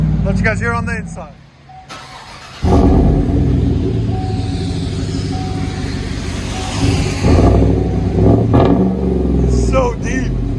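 Deep, rumbling V8 exhaust from a Chevy/GMC 5.3L truck with a Vibrant bottle muffler and 5-inch black tips, heard from inside the cab as a loud, steady drone that swells when revved, with people talking over it.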